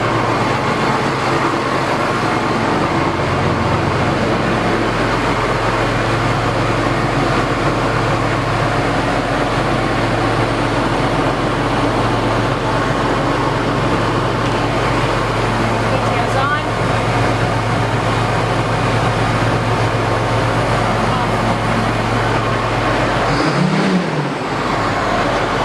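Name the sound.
John Deere 8430 tractor running, PTO being checked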